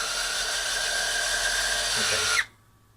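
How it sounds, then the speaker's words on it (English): A power drill whines steadily at high speed for a couple of seconds while drilling a hole through a model aircraft wingtip, then cuts off abruptly and winds down into quiet. "so now I'm going to drill the other hole"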